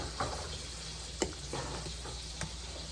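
Bacon fries in a pan with a steady low sizzle, broken by a few sharp ticks and pops spaced about a second apart, close by and without any speech.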